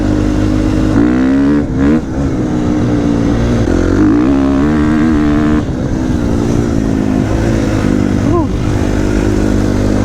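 KTM 350 XCF dirt bike engine while riding, a loud close motor rising and falling as the throttle opens and closes, with wind noise across the mic.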